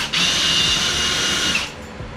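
A power drill bores a hole for mounting a car front splitter, a loud, close, steady whine lasting about a second and a half before cutting off.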